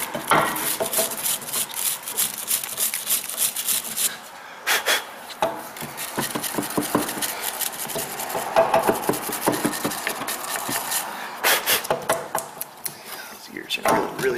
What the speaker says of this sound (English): get a little wire brush, clean off some of the crud here